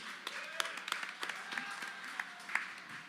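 A bar crowd at the Beer Depot in San Antonio claps and cheers for itself, with scattered sharp hand claps and whoops spread over a fairly quiet, thin room sound.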